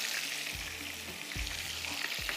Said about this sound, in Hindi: वो प्याज थोड़ी थोड़ी सी फ्राई होती है